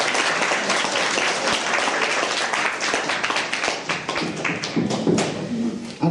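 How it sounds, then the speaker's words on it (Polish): Clapping at a Caritas Christmas Eve gathering in Puck, Poland, loud close hand claps over a wider room of applause, with sharp individual slaps and thuds standing out irregularly. "Tutaj Pan klaszcze"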